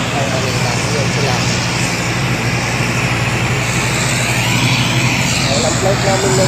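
An airplane engine roars loud and steady at a Bicol airport, a dense, unbroken drone with people talking underneath.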